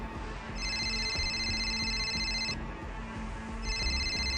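A phone rings in a sci-fi fan film scene. The shrill electronic ring comes in two long bursts over a steady, dense background bed, with no talking.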